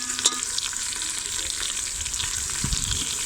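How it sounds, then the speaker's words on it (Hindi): Onions fry in a pan over a flame for a desi-style kadu daal, giving a loud, continuous sizzle close by, with stirring scrapes and soft clanks and no talking. "यहाँ जो है वो प्याज फ्राई होना शुरू हो चुके हैं"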